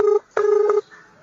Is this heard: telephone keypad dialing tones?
yes